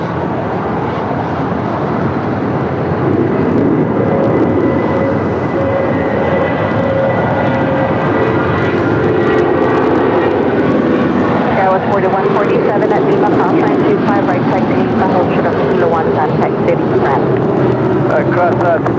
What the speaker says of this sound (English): United Airlines Flight 514 heading to JFK. It's a 757-200. Already rolling down 25 right.